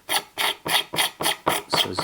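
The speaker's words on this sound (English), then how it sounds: "What I want to do now is just start scraping off some of this finish" Old finish being scraped off a wooden walking stick, seven even rasping strokes in a steady rhythm, close and fairly loud with no other sound.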